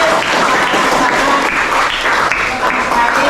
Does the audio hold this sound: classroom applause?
yes